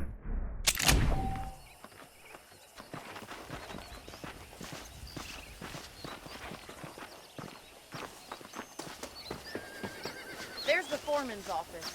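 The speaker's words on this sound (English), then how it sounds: "The horse is over here." A horse whinnies loudly at the start in Red Dead Redemption on Xbox One, followed by steady clip-clopping hoofbeats and a soft background bed, with a brief electronic tone later on.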